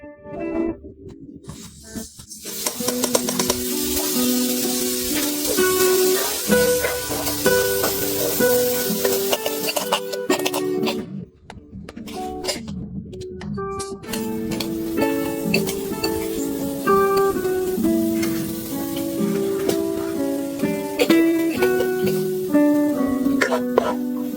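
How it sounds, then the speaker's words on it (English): Diced onions frying in a pan alongside potatoes, a steady sizzle with clinks of utensils and a stirring rhythm, bright and close, running beneath background music. "She then tosses the diced onions into the pan and crushes the peeled walnuts."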